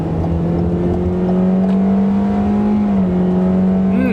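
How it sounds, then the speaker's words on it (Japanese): A Toyota Corolla Cross gasoline engine with CVT revs up steadily, its droning pitch rising and holding loud and close, a smooth whirring acceleration with no voices. "アクセル踏みます。"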